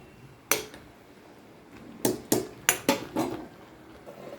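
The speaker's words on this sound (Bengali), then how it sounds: "ঢাকাটা খুলে একটু দেখে নেব" A metal lid is handled on a cooking pot of potato curry: one sharp clank, a pause, then a quick run of five ringing metallic clinks and knocks as the lid is lifted off, close and without talk.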